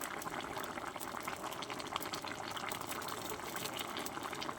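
A pot of vegetable and fish curry with sea fish, teasel gourd and potato boils hard, a steady bubbling, churning simmer that stays loud and continuous throughout, with no talking.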